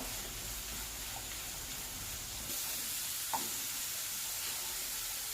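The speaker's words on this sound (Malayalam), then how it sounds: "നന്നായി മിക്സ് ചെയ്ത് കൊടുക്കുക" Food for butter chicken sizzles under steady stirring in a pan, a continuous hiss that grows slightly louder midway with one soft clink and no voices.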